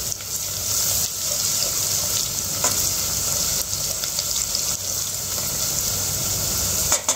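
Onions fry with a pinch of salt in a pan, giving a steady close sizzle with scraping stirs and a few sharp clicks near the end, no voices.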